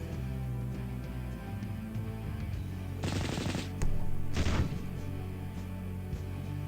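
Rapid bursts of gunfire and explosive crashes from a Warhammer-style sci-fi war strategy game, Epic 40,000: Final Liberation, sharp volleys at a moderate distance over a steady background drone.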